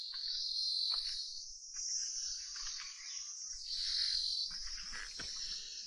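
A continuous high cricket chorus hums throughout, fairly faint and distant, with a few soft rustles and bumps underneath, in a quiet rural area of Jhandi, North Bengal.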